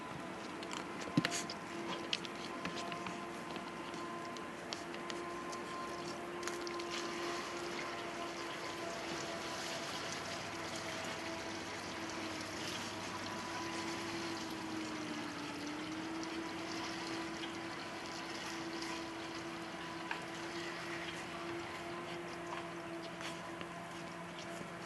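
Water being pumped into a tank for a Tamworth pig waterer at a remote location, a steady continuous watery rush with a faint motor hum running alone throughout.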